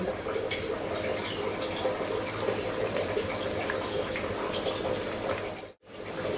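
Tap water runs in a kitchen in a steady, even rush that cuts off abruptly just before the end.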